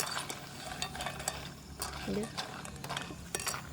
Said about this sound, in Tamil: எங்களுக்கு பாருங்க, கலகலண்ட சத்தம் கேட்கு